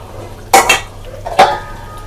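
A metal lid is set onto a cooking pot of mutton, producing two sharp clanks about a second apart with brief ringing, close and loud against a quiet background.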